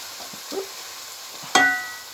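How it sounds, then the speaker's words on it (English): Mince browning in a pan with seasoning as it is stirred, giving a faint low sizzle with a couple of soft scrapes, then one sharp louder clatter near the end that fades out. "it's cooked in with the mince while the mince is browning"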